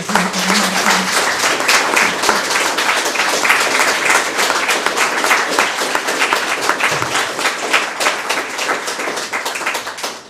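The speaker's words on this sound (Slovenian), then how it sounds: "Dajmo en velik aplavz za ta vesel" Guests at a formal reception in Šentjur applaud Olympian Martin Lešnik and his silver and bronze medals, a loud, even wash of many hands clapping that goes on without a break.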